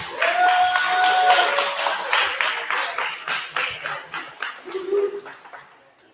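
Applause from a crowd, dense claps building to a steady roar and then tapering off, with a few tonal sounds and whistles mixed in.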